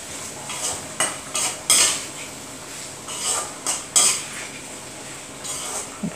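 A spoon scrapes and clinks against a pot while brinjal tomato curry is stirred, a few irregular metallic knocks and scrapes up close, with no talking.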